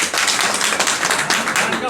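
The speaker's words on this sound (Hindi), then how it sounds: "जबरदस्त तालियां बजाइए।" A crowd claps for a farmer at an agricultural products testimonial event, a dense, steady burst of applause filling the room at close range, with voices mixed faintly into it.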